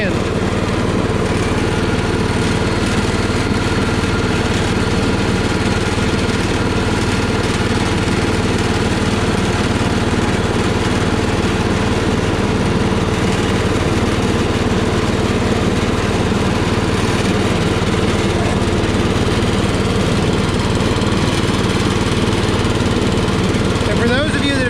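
A 1960s Power King garden tractor mows a lawn, its engine droning loud and steady up close for the whole stretch, with voices talking over it.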